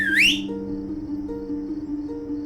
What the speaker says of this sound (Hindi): तुम्हारी सीटी सुन के सारे शहर की लाइट चली गई।